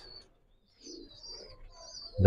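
Racing and fancy pigeons at a pigeon farm give a few faint coos and high chirps, quiet and intermittent, ending with a sudden loud knock.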